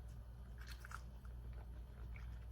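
A chunk of stew carrot is bitten and chewed close up, soft crunching and squishy bites repeating over a steady low background hum, with no talking.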